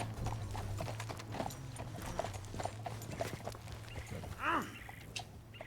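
Horse hooves clip-clop in a steady trotting rhythm through the Red Dead Redemption 2 game world, moderately close under a low hum, with a brief whinny-like call near the end and no speech.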